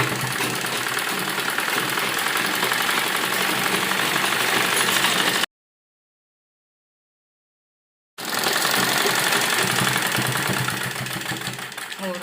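A sewing machine stitches a palazzo seam in a steady, fast mechanical whir that runs continuously, breaks off into about three seconds of silence, then resumes just as loud and close.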